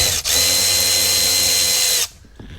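Power drill or driver spins for about two seconds with a steady high whine, loosening a hidden corner bolt in the dashboard of a Mercedes CLK W209, then cuts off abruptly into quiet.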